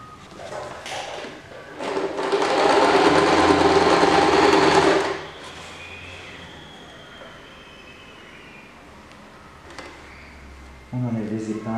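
Sewing machine stitching a fleece snood runs in one burst of a few seconds, then stops, followed by quieter handling sounds and a short thump near the end.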